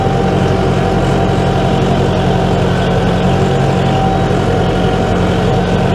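Steady low tractor engine drone running continuously while sowing hybrid rye with a Poznaniak seed drill, heavy and rumbling with a constant hum, heard from inside the cab at an even level.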